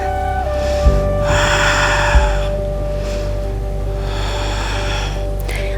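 A yoga instructor breathes audibly during a gentle lizard lunge flow, with two breath sounds of deep inhales and exhales separated by pauses, close to the mic over a steady background hum.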